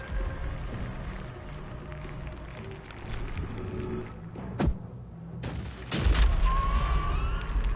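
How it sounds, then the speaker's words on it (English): Bombs detonating in Baldur's Gate 3 combat: a few dull booms and sharp blasts over busy game background, with a heavier rumbling burst near the end. "I'm gonna get her close enough so I can just chuck bombs at him"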